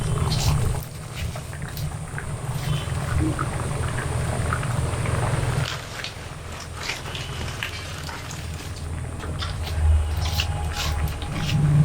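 Mung dal with raw mango boiling in a pot: a continuous low bubbling rumble, steady and close, with faint clinks now and then and no talk.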